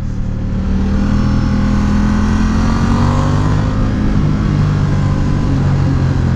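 Ducati cruiser-style motorcycle ridden on the road, its engine loud and close in a continuous accelerating drone with heavy low rumble and wind noise, no talk.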